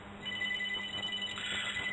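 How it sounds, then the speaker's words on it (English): A telephone rings through a room during a spoken meditation session, its bell-like tone steady and moderately loud against a faint background for the whole two seconds. "It's a bad time for that phone call."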